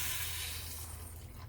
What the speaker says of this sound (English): I'm going to add 1 glass of water